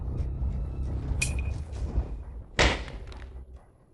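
A loud slam, probably a door or object banged down once, lands sharply amid a low rumbling background, following a smaller knock earlier.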